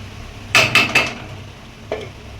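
Metal lid clanks three times in quick succession onto a cooking pot of boiled broad beans in a home kitchen, close and sharp, followed after a pause by one fainter clink, with no talk.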